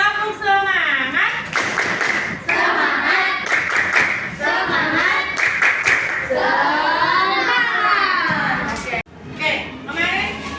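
Schoolchildren in a classroom perform a rhythmic spirit clap, sharp patterned hand claps in bursts, mixed with chanting children's voices and a teacher speaking.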